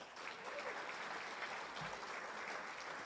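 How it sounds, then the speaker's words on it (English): Audience applauding at an alpaca fleece national awards ceremony, steady and continuous without a break, heard from some distance at a moderate level. "How about one more round of applause for all 10 of our finalists in that category?"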